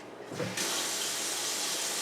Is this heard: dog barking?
no